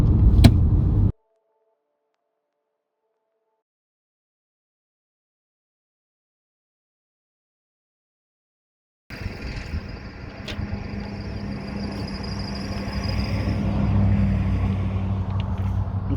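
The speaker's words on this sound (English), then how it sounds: "all these cars keep driving by, messing up my audio." Traffic noise rises after a long silence, a steady rumble of cars passing nearby, growing louder toward the end.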